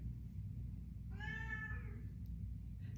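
A house cat begging to go outside lets out a single drawn-out meow, clear and fairly close, over a steady low hum, followed by a faint short sound near the end; no talking.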